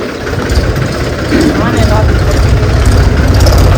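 A tractor engine rumbles low and steady as it arrives in a village, the heavy drone growing slightly louder partway through, with people talking nearby.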